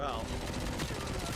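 Rapid SMG gunfire in a video game, with dense overlapping shots in a short burst under a person speaking.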